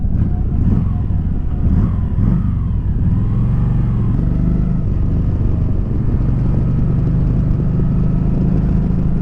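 A 2019 Kawasaki Vulcan Vaquero cruiser motorcycle rumbles loud and close as it slows on a bridge, its low engine note easing down under steady wind noise.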